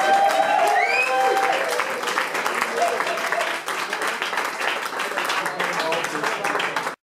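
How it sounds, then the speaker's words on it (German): Audience applause for the creators of the prize trophies at a German stage event, sustained and dense throughout, with a voice talking over it and whistles near the start, cutting off abruptly at the end. "macht doch mal schnell einen Applaus für die kreativ Schaffenden"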